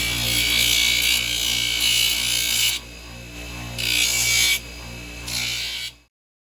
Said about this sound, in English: It's on the grinder.